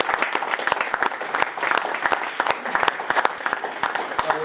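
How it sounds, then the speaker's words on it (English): An audience at a general membership meeting gives cadets a round of applause, sustained clapping with distinct individual claps audible in an even, moderately loud wash, no speech over it. "would you give my cadets a round of applause?"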